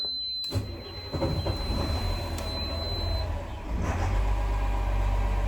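A boat engine runs in neutral at low throttle, a steady close rumble with a low drone and occasional knocks throughout.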